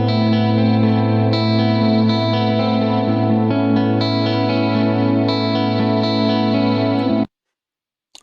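An electric guitar track reamped through an Axe FX modeller plays alone, a thick distorted tone with chorus and echoey effects, sustained and loud for about seven seconds before cutting off abruptly into silence.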